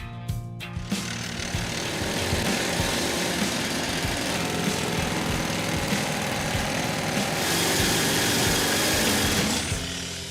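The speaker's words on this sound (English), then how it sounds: "drill uses compressed air to strike the rock 800 times a minute" A pneumatic jackleg rock drill driven by compressed air hammers into rock in a small family gold mine, a loud, close, continuous chattering roar that runs the whole time without any talk.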